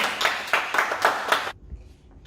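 Children's rhythmic hand clapping at a kids' worship gathering, about six sharp claps in a steady beat, then an abrupt stop into near silence.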